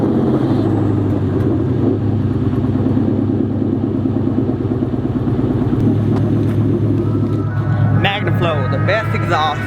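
Loud, close V8 exhaust rumble from an 800 hp Ford SVT Terminator Cobra fitted with a Flowmaster exhaust, a steady throbbing drone running the whole time, with voices talking over it near the end.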